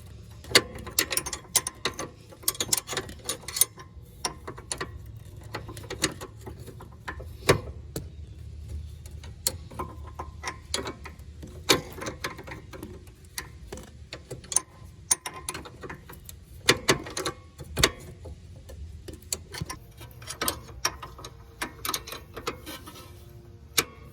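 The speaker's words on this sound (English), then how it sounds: "See how I'm constantly turning the wrench just to get a good angle." A 14 mm wrench ratchets on a rusty rear sway bar link bolt of a 2004–2008 Acura TL in a tight space: steady, close mechanical clicking in irregular bursts, with occasional sharper knocks and no talking.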